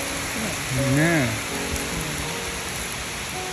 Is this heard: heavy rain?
yes